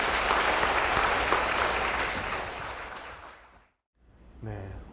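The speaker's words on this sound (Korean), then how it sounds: "박수로 모시겠습니다." A church congregation gives strong, dense applause that fills the room, then fades into a brief silence before a voice begins to speak.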